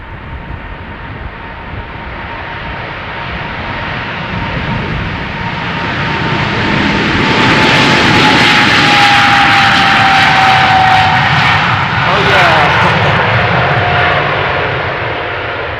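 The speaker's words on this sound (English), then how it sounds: "Next up, Sky Team Livery 777-300ER, outbound to Panama City" A 13-year-old Boeing 777-300ER in SkyTeam livery departs runway 36L at Amsterdam Schiphol, its jet roar swelling to a loud, sustained rumble and whine as it passes, then holding steady.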